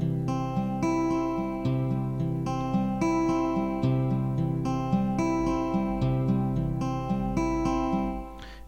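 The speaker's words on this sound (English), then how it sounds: "The main riff for us at the moment that we are going to work with sounds like this" A pre-recorded musical riff plays from a music device, a steady repeating melodic loop with a clear rhythmic pattern and sustained harmonic tones, heard alone with no talking and fading near the end.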